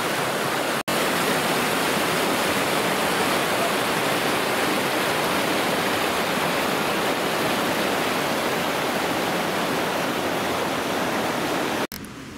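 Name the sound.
waterfall cascade in the Suzon valley near Dijon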